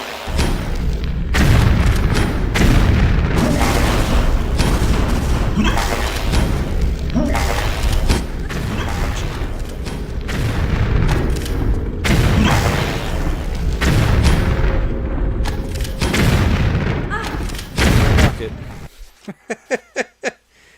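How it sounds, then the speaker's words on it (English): Rockets fire and explode in Tomb Raider III's South Pacific levels: loud, heavy booms recur throughout under a player's talking, ending in a quick series of sharp thuds. "I have to let out the rockets."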